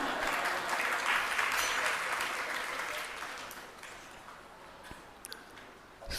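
An audience claps during a religious sermon, giving a dense, fairly quiet spread of applause that slowly fades away, with no speech over it.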